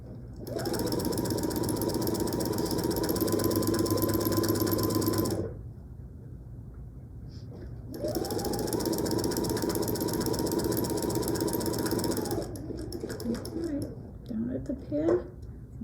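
A sewing machine stitches quilt binding in two long steady runs of close, loud motor whir, separated by a short pause of handling and light clicks, with a few quieter mechanical taps at the end.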